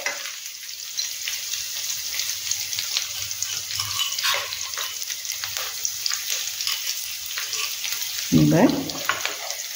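Garlic frying in oil for kadhi gives a continuous close sizzle and crackle with stirring scrapes, and a person says a short word near the end.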